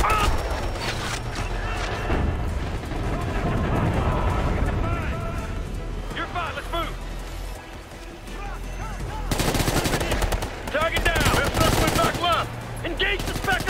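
Sustained gunfire in the video game Ghost Recon Future Soldier, Guerrilla mode at a sawmill map, with rapid machine-gun bursts and overlapping shots throughout, loud and dense, under shouted squad voice lines.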